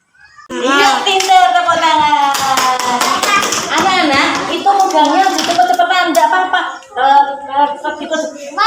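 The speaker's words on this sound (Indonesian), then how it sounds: "Iya, pinter, tepuk tangan." A class of children in an Islamic religious education lesson claps in rhythmic bursts while singing and chanting together, loud and close, with a teacher's voice mixed in.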